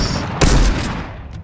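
A loud, close burst of gunshots hits suddenly and decays into a rolling echo, alone without talk.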